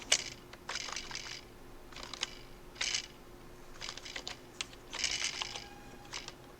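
Keys clatter on a computer keyboard in short, uneven bursts of quick taps separated by brief pauses, close up and fairly quiet, over a low steady hum.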